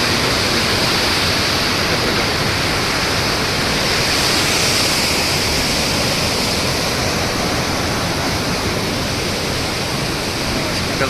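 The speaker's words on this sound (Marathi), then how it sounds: "पाणी" The flooded Godavari river rushes past in a loud, dense, unbroken roar of churning water that fills the whole stretch and stays steady throughout.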